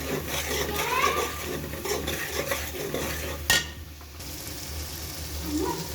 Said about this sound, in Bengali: দিয়ে দেওয়ার পরে একটু ভালো করে নাড়াচাড়া করব